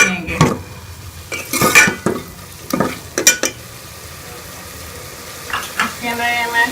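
Beef being fried in ghee with spices in a pan, close and fairly loud, with repeated scraping stirs and utensil clatter over a steady sizzle.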